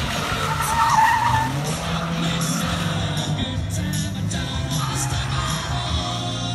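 An MG car skids through a precision stunt-driving display at Silverstone, with a sustained tire squeal and engine drone heard from a moderate distance over crowd murmur.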